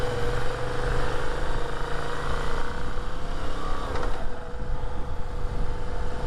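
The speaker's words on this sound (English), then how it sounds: "I love the sound of this bike too" A Moto Guzzi V7 motorcycle with its stock exhaust runs in city traffic on Fifth Avenue, giving a steady, low idling throb that stays close and even throughout.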